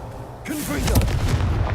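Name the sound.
Confringo fire spell blast, Hogwarts Legacy video game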